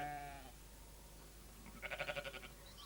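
Day-old lambs bleat in a rural farm scene: one bleat opens the clip and fades, then a louder wavering bleat rises near the middle, with quiet background between them.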